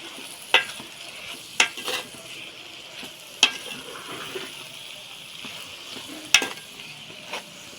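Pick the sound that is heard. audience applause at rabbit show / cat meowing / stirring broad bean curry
stirring broad bean curry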